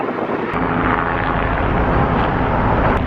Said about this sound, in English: some news helicopter flying over, and I don't want to get in their way